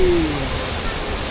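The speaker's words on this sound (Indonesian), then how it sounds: "Tengok air terjun" A waterfall in the karst country of Kayan Mentarang National Park gives a steady broadband rush throughout. A faint whistle-like tone sits near the start.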